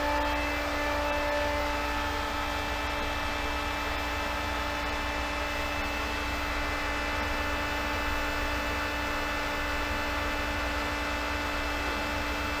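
A water pump runs at maximum speed, pushing water through a 2-inch pipe line. It makes a steady, constant hum with a strong tonal drone and a broad rushing noise, unchanging throughout and with no talk.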